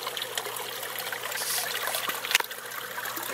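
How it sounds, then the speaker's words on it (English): Water from a tank feed line pours and trickles into a 5-gallon bucket fish tank filter, a steady close splashing flow with a brief louder splash near the end. "the water exits down there and swirls around in a circle"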